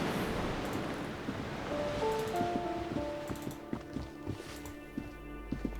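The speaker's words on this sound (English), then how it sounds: "Waves crashing in the darkness." Waves crashing in darkness in the Disco Elysium video game, a soft continuous wash of surf heard faintly in the background, joined by a few sustained musical tones and light tapping sounds, no talk.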